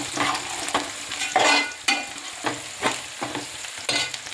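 Onions frying in a pan for fish pulusu, a steady sizzle broken by repeated scraping stirs of a spoon, loud and close with no talk.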